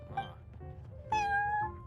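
A cat in the video game Genshin Impact gives two meows, a short one at the start and a longer, drawn-out one later, close and clear over a soft low background.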